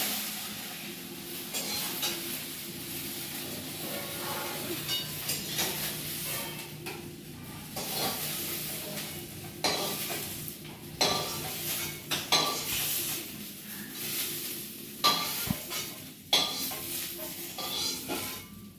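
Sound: okra frying in oil in a wok, stirred

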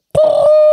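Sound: man imitating a dove's call

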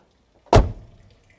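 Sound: Mercedes 280 SE W116 car door lock clacking

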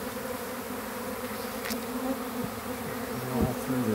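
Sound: honeybee swarm buzzing in Baltimore

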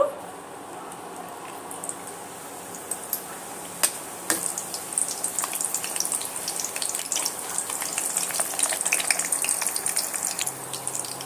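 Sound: milk-powder parathas frying in ghee and oil

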